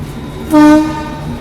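The Lalbagh Express sounds its horn near Katpadi while running in parallel with another train: a single loud, steady tonal blast of about a third of a second over rolling track noise.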